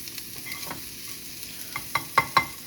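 Chicken for street tacos cooking in a pan, a steady soft sizzle with a few sharper crackles and pops building toward the end, close and alone with no voices.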